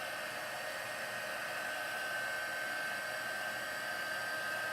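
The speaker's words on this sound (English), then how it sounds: "And now I'm going to take my heat tool" A heat tool blows hot air steadily to melt embossing powder on a Christmas note card, a constant loud whooshing hiss with no pauses and no talking.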